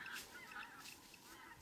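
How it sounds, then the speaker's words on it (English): Cranes call in the countryside near a village east of Chernobyl by the Pripyat river, with a faint flock of distant honking, trumpeting cries overlapping continuously, no voices. "Quite a lot of birds here. That's cranes."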